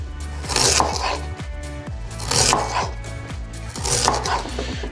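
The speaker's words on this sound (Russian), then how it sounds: "В принципе, все будем нарезать кольцами." A knife chops vegetables such as carrots into rings for ratatouille, giving a steady run of about ten crisp cuts against a cutting board with brief scraping noises in between. The sound is close and clear, with no talking.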